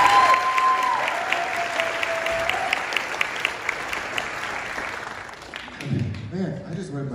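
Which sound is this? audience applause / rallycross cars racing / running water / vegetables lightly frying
audience applause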